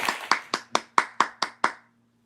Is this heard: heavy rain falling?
no